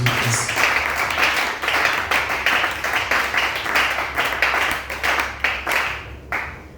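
A church congregation applauds and acclaims the Lord, loud dense clapping with crowd voices mixed in, steady throughout and thinning near the end.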